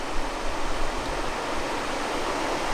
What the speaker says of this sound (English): Quite a bit of water rolling in it today, nice and noisy.